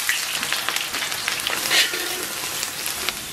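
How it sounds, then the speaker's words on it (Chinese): Chopped scallions hit warm oil in a wok and fry with a steady, close crackling sizzle, dense fine pops running throughout with a brief brighter burst partway, no voices. "咱们给锅里边稍微来点油， 油温两三成热，把提前准备好的葱花下到锅中"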